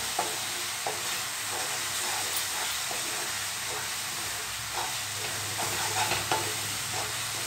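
A thick coconut milk sweet with ghee is stirred in a kadai, giving a steady sizzle and hiss with repeated soft scraping strokes at an unhurried rhythm.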